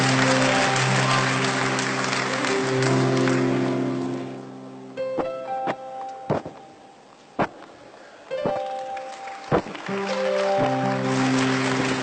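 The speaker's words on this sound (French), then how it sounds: "Applaudissez." An audience at a peace-themed poetry slam applauds in broad, crowded clapping that mixes with sustained musical tones, then drops away, leaving sparse sharp claps and tonal notes.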